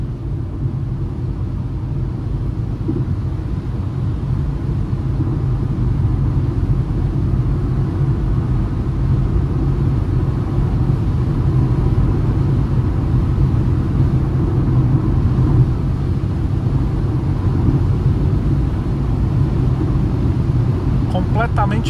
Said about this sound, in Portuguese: Esse barulho que vocês estão ouvindo do pneu no asfalto é porque aqui essa parte do pavimento é de cimento.